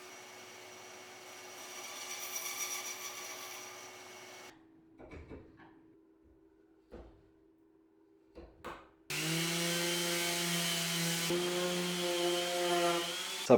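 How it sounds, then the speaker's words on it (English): A bandsaw cuts a tenon into a whisky barrel stave, its motor humming at first, then falling quiet for several seconds of light knocks and handling, before the blade bites into the oak with a loud, steady cutting roar. "Now on the staves I can mark out the tenon and get that cut on the bandsaw"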